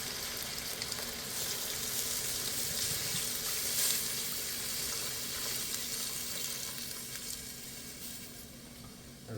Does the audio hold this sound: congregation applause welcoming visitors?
no